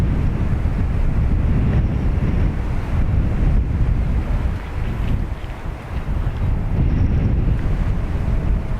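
Strong crosswind at Dublin Airport buffets the microphone in a loud, continuous roaring rush, dipping slightly midway before surging again.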